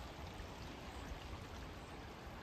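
A river in Yosemite Valley, used for tubing, rushes with a steady, continuous broadband wash of flowing water, even and unbroken throughout, with no voices.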